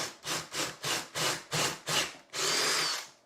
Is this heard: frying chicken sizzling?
no